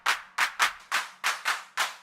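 Seven sharp electronic clap hits in an uneven techno rhythm, each layered with a burst of bright white noise that swells with the hit and fades quickly, loud and alone.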